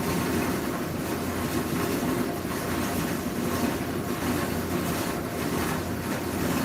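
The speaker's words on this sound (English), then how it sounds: "sorry, air compressor's running. Air compressor's really loud." A loud air compressor runs continuously in a sign-making workshop, a dense steady broadband roar with a constant low hum and no pauses.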